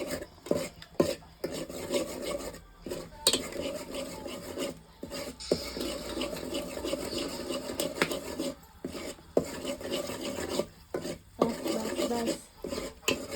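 Chicken curry sautéed in a pan with a spoon, giving repeated scraping and rasping strokes against the metal in an uneven rhythm, close and fairly steady, broken by brief pauses.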